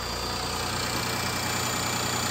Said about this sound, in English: Engine runs nice and strong.